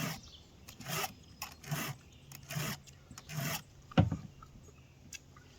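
A chainsaw chain being sharpened by hand with a file, rhythmic rasping strokes, about six distinct passes close up, with short pauses between, no talking.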